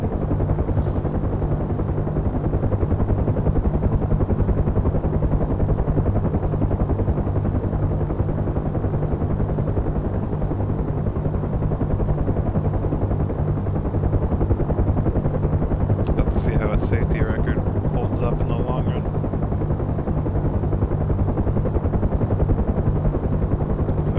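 Loud, steady helicopter cabin noise in flight, a low-level hop from Batumi to Kubeleti, with a constant deep rotor and engine drone throughout and brief higher rattles near the end.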